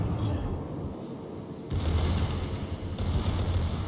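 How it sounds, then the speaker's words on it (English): Heavy naval guns of the German battleship Prinz Eitel Friedrich fire in World of Warships, with deep booming blasts at about 1.7 and 3 seconds that rise over a steady low rumble of battle noise. "I'm opting to shoot at Cleveland here."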